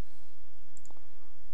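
A computer mouse gives one or two quick, crisp clicks, close to the microphone, set against a steady background hiss with no talk.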